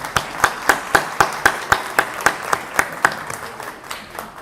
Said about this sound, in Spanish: Nobleza obliga. Aplausos,